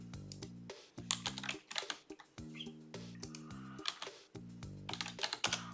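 Typing on a computer keyboard, quick close clicks in short bursts with brief pauses, faint background chirps behind them.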